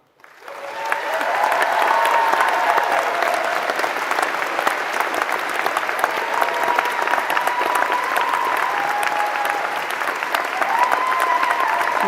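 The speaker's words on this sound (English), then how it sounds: "That's the best applause I've ever had." A large audience applauds at a University of South Wales graduation ceremony. Clapping swells quickly and holds as a loud, sustained roar of hands for over ten seconds.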